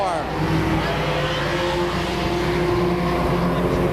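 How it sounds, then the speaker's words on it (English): Modified race cars roar around Claremont Speedway in a steady, loud engine drone as a pack battles down the backstretch, with a commentator talking over it. "Down the backstretch they go. The 5-car battle continues."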